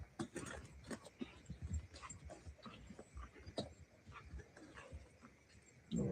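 A dog whimpers, pants and yips close by amid constant rustling and handling noise, the sounds overlapping and irregular, with a louder thump at the very end.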